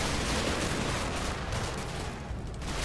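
Dense, continuous massed gunfire from the video game Combat Mission: Battle for Normandy, a loud, sustained roar of overlapping shots with no pauses and no voices.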